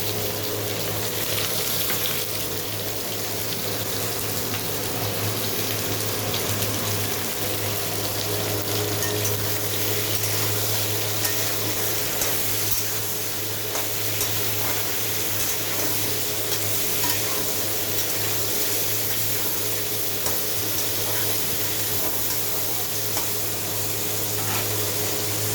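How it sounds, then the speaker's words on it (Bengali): Mixed vegetables for korma fry in hot oil, giving a steady, even sizzle and hiss that continues unbroken, close and moderately loud, with no one talking. "আমার সবজিগুলো ভাজা হয়ে গিয়েছে।"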